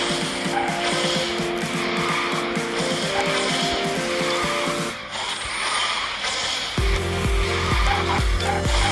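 The Skywalker car races in QQ Speed Mobile, a loud continuous engine drone with long tire squeals as it drifts, the engine note shifting and surging near the end.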